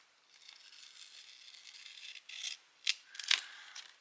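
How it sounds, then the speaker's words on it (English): Soft rustling of paper, then a few sharp snips from large scissors near the end, close and fairly quiet. "I use big scissors so I get somewhat of a straight line doing this."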